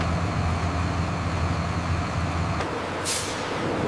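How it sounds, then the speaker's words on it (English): Transport trucks arrive at a grape processing plant with a steady, heavy engine rumble that drops off partway through, followed by a short hissing release like an air brake. "Transport trucks arrive at a modern grape processing plant."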